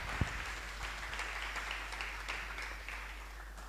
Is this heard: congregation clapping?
yes